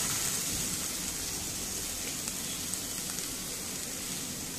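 Chilli paste and prawns sizzle in hot oil, a close, even hiss that runs unbroken for several seconds with no voices.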